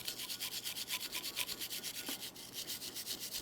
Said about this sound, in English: For this, you can use a wire brush or some sandpaper.